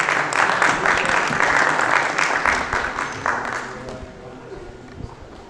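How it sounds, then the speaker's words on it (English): A conference audience at an analytics event applauds to welcome a panelist onto the stage: a full burst of clapping that tapers off over several seconds, with a voice faintly audible as it fades. "I request everyone to please welcome him with a round of applause"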